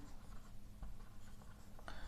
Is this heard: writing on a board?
yes